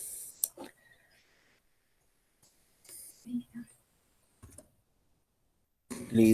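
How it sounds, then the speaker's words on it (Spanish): A computer mouse is right-clicked, giving a few faint, sharp clicks scattered across mostly quiet stretches, with brief soft voices and breathy sounds in between. "clic derecho"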